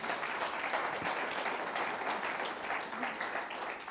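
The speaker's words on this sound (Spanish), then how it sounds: "dale un aplauso a Dios" A church congregation gives sustained applause to God during a service, with continuous mid-distance clapping holding steady throughout at a moderate level.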